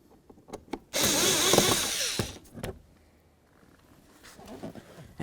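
A power drill whirs in one loud burst of about a second and a half, backing a screw out of a Ford Edge front door panel, with faint clicks and handling noise before and after.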